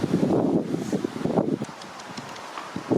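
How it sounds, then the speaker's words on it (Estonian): Gusts of wind roar across the microphone outdoors on a blustery spring day during a walk, loud and buffeting at first and then easing into softer rustling. "Täna on hästi tuuline ilm."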